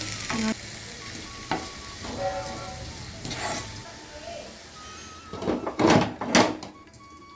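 Broad bean curry with salt is stirred in a pan on the stove: a steady low sizzle broken by several sharp scraping strokes, with a louder flurry of stirring near the end.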